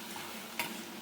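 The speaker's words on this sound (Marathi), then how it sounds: "आता इथं कांदा आपला हा भाजू दे" Onion sizzles softly in a pan as it begins to fry for a bitter gourd dish, a faint steady crackle with one brief sharp stir or scrape partway through.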